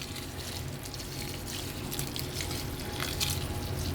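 Water poured from a container to soak Repti-Chip coconut reptile substrate, a steady close trickle and splash running continuously with faint drips, no voices.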